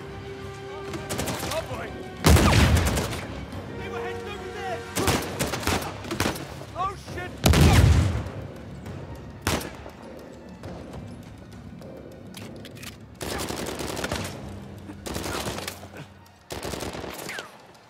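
Uncharted 4 firefight in New Devon: sharp, close gunshots and machine-gun bursts come in irregular clusters, punctuated by heavy thumping impacts, with voices speaking between shots.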